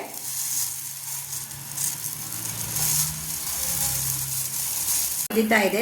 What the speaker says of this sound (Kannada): ನೋಡಿ ಈಗ ಕುದೀತಾ ಇದೆ.